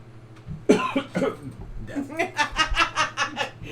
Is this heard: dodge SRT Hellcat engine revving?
no